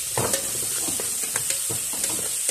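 Food sizzles in hot oil in a home kitchen, a dense steady hiss with repeated scraping stir strokes in an irregular rhythm, close up and without talk.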